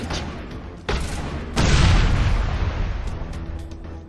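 A heavy explosion in the Mass Effect video game erupts after a short blast, then rolls on as a loud, sustained roar of debris and rumble.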